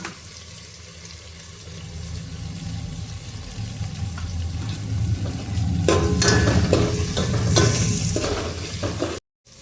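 Tomatoes frying in oil with turmeric and salt, a continuous close sizzle that swells louder midway as the pan is stirred, ending in an abrupt cut.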